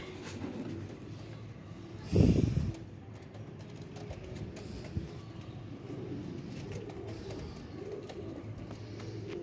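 Pigeons kept by a breeder, with one loud burst of cooing or flapping near the start and soft background bird sounds and low murmurs afterward.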